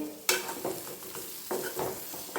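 Meal maker soya chunks fry in a pan for a gravy, with a sharp initial clatter, then a crackling sizzle broken by repeated stirring scrapes, close and moderately loud.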